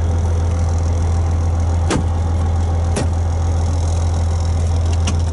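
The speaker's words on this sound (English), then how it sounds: "What's rattling over here?" A truck idles with a steady low engine drone inside the cab, broken by a few sharp rattling knocks from loose parts at irregular moments.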